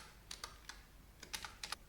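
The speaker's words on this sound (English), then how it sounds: "here I'm typing backspace and enter to try to get the terminal to process my command" Keys clack on a computer keyboard in short bursts, including backspace and enter presses, close up and crisp with no voice over them.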